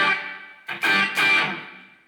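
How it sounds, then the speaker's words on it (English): Distorted electric guitar through a Soldano SLO-100 amp with hall reverb and delay: a sustained chord, a short gap, then two more struck chords that ring out and fade in long, washy tails, with no talking. "It was a hall reverb, he claims, so let's just throw a little hall in there"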